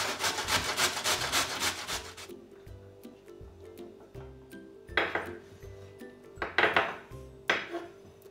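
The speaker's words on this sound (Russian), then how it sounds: "Одну крупную морковь натираю на крупной терке." A large carrot rubbed against a coarse kitchen grater in rapid rasping strokes, a dense burst at first, then a pause and several sharper scraping passes, close up and without voices.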